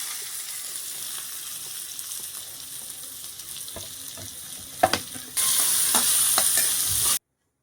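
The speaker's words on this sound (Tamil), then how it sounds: "நெருக்கி வச்ச வெங்காயத்தை கொட்டிக்கலாம்" Chopped onions frying in a kadai with mustard seeds and cumin, a continuous close sizzle with scraping and stirring, rising to a louder hiss near the end before cutting off.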